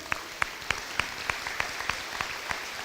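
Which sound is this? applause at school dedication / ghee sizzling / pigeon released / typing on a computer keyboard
applause at school dedication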